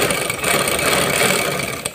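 A sewing machine stitches a creased, ironed garment seam in a tailoring lesson, giving a loud, close, continuous whirring motor hum with steady fine chatter and no talking.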